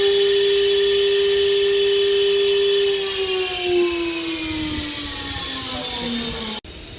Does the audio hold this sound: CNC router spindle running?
yes